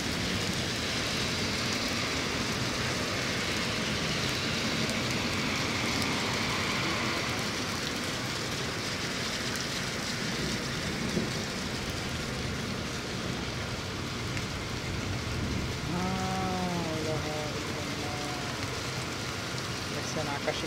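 Heavy rain pours in a dense, continuous, loud wash during a thunderstorm, with a voice speaking briefly near the end.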